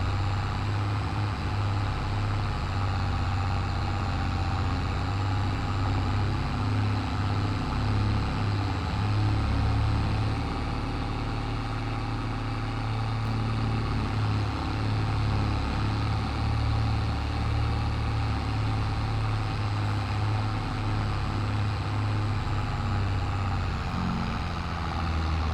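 A tractor engine drones steadily while driving on a French vineyard farm in Farming Simulator 22, a loud, continuous low rumble with a slight rise and fall, and no voices over it.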